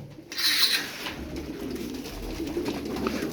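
Tumbler pigeons coo softly in a loft, low throaty calls layered over light rustling and background noise, with no voices.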